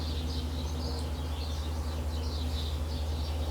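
Birds chirping outdoors, faint and scattered high calls repeating throughout over a steady low droning hum, with no one talking.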